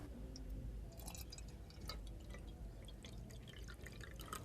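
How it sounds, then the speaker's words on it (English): Water filling an overflow vessel during a static fluids experiment, heard as faint scattered drips and light splashing over a steady low background hiss, with no talking. "Fill the overflow vessel with water."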